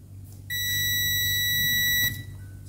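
A continuity tester sounds a single steady, bright beep of about a second and a half, probing the thermal fuse inside a broken clothes iron, over a low hum.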